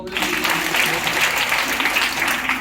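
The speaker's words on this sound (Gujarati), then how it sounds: "તાળી પડો." An audience applauding at a gathering, dense continuous clapping from many hands filling the whole stretch, fairly loud and near, with faint voices mixed in.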